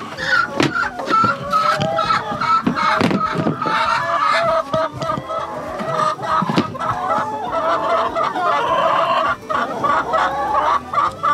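Laying hens cluck and squawk in a busy chorus close by, with scattered sharp calls over a steady murmur of the flock and a person talking now and then.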